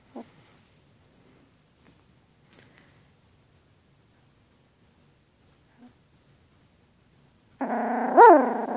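A puppy makes a short burst of whimpering, growly little noises near the end, close and fairly loud, after a long stretch of near silence with faint rustles.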